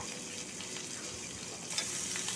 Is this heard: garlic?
yes